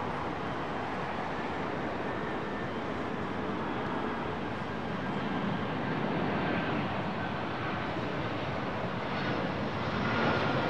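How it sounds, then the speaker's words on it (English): Rolls-Royce Trent jet engines on an airliner at London Heathrow at sunset give a steady, broad roar that holds for the whole stretch, moderately distant and mixed with wind buffeting, with no talking. "I can hear those Trents"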